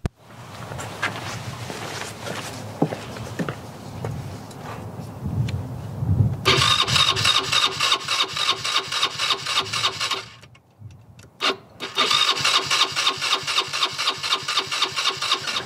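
A four-wheeler engine cranks repeatedly without catching, a loud rhythmic churning in two long bursts separated by a short pause, after some quieter shuffling and handling noise at the start.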